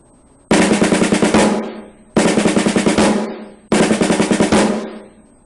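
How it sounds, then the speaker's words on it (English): Snare drum playing a 9-stroke roll led with the right hand, three crisp buzzing rolls each ending in an accented tap, evenly spaced and close, with no talking. "First, let's try leading with the right,"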